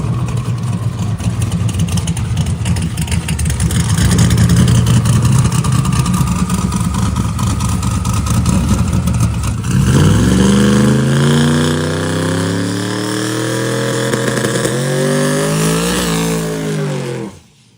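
A twin turbo NASCAR truck engine at full throttle during a run, loud and close, a raw roar that shifts to rising whining sweeps as it climbs through the gears, then cuts off abruptly at the end.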